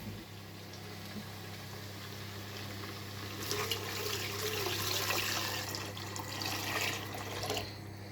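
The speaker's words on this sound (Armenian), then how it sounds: "ու ավելացնելու եմ ջուր" Water poured into a cooking pot of tomato-based stew in a home kitchen, a soft hiss swelling into a louder rushing splash midway, over a steady low hum.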